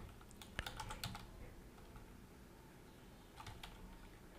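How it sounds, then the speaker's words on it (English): Soft typing on a computer keyboard, with a few quick clusters of keystrokes at the start and a short burst near the end over a quiet background hum. "And now open a new tab and type here"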